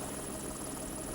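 A helicopter, one of the Okanagan Helicopters fleet serving construction around Kitimat and Kemano, drones steadily and loudly throughout the short stretch, with no talk over it.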